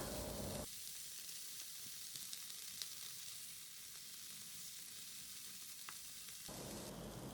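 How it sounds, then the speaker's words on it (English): Paneer sizzles with baby corn and vegetables while being stir-fried, a quiet steady frying hiss with faint scraping of stirring, louder at the very start and end. "Now let's stir and mix the paneer along with the veggies."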